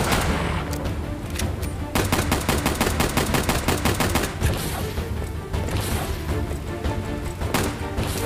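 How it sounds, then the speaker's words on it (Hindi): Rapid, loud handgun fire from a PC action game played on a Realme X7 Max phone, shots cracking in quick bursts almost continuously, with dense game sound beneath and no talk. "अब तो भाई छोटी गन से मारना पड़ेगा"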